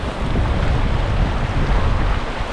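Heavy surf roars close by on a coast, a loud continuous rush of big breaking waves mixed with gusty wind buffeting the microphone.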